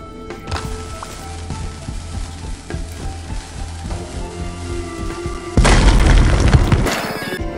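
Dynamite blows up in the video game Sneaky Sasquatch: after a stretch of quieter game sounds, a loud, sustained explosive roar erupts and rumbles for over a second before cutting off.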